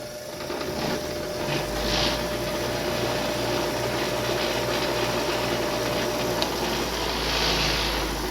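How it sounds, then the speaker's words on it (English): A bench grinder C-clamped to a table cleans up old bolts from a 1980s Chevy 402 big block engine, producing a continuous loud motor hum and whine that swells and rasps steadily, with no voices. "So I busted out the bench grinder and got it C-clamped to the table."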